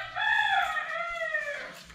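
A rooster crows once, a loud, close, drawn-out call that rises and then trails off over about two seconds, with no voices and only faint background noise.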